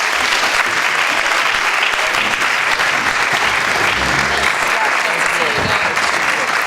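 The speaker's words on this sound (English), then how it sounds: "Let's give them all a big round of applause" Loud, sustained applause from an audience at a college forum with the Massachusetts governor candidates, a dense, continuous wash of clapping that fills the whole stretch.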